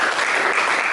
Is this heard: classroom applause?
yes